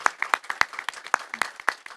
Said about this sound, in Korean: 여러분 우리 박수로 또 응원의 박수 한번 부탁드리도록 하겠습니다